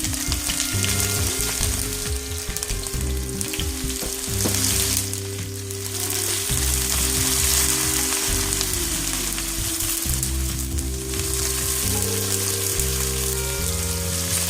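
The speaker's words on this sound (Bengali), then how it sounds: "পেঁয়াজটা আমি বেরেস্তার মতো করে ভেজে নেব।" Chopped onions frying in hot oil with whole spices for a malai kofta curry, a steady dense sizzle close up with occasional stirring scrapes.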